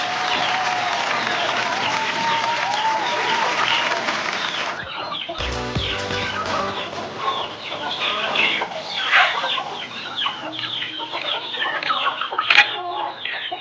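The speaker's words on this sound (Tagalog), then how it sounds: "Ito po mga ka-chicken yung bago nating alagang Rhode Island Red." A flock of free-range Rhode Island Red chickens clucks and squawks nearby in a busy, overlapping chorus, with a short lull partway through before the chatter picks back up, ending with a sharper cry.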